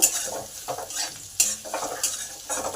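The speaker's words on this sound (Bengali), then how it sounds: "ভেজে নেব এটা যত ভালো ভাজা হবে পেঁপের ঘন্টটা তত টেস্টি হবে" Grated ginger, asafoetida, bay leaf, dried chili and spices frying in oil for a no-onion papaya ghonto, a close crackling sizzle broken by repeated scraping stirs of a spoon in the pan, with no talking.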